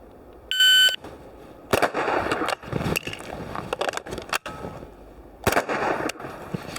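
A shot timer beeps, then a CZ Scorpion EVO 3 S1 in .22 LR fires sharp single reports outdoors, separated by a pause and reload handling noise.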